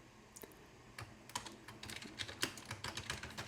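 Fingers tapping on a computer keyboard, a close, quiet patter of uneven key clicks that grows busier and quicker midway, with no voice over it.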